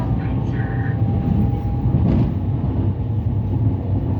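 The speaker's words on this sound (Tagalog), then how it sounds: "Bilis ng train nila dito." A steady, loud rumble and roar of a fast-moving high-speed train in Taiwan heard from inside, constant throughout with a faint high whine.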